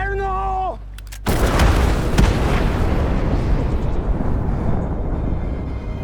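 A demolition charge goes off in one sudden, loud blast, and a long rumbling roar of debris follows that stays heavy and dense until the end.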